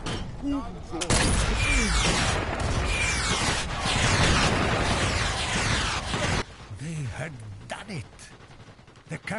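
Gunfire and heavy explosions in the virtual-reality shooter Sniper Elite VR as a captured artillery gun destroys a tank: a dense, loud barrage of blasts and shots for several seconds, then quieter scattered bursts.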